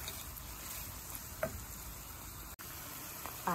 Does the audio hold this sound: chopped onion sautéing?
yes